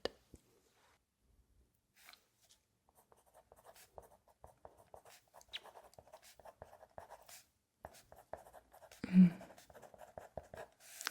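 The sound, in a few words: writing with a pen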